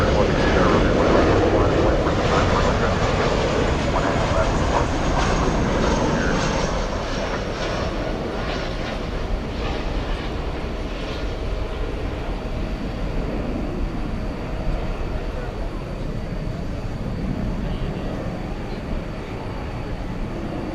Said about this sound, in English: 1762 American Airlines from Des Moines, Iowa. It's an Airbus A319.